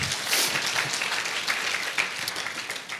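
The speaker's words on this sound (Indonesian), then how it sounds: "Berikan tepuk tangan kita untuk Tuhan kita." A church congregation at a worship service applauds together, a full, sustained wash of clapping from many people that swells early and eases slightly toward the end.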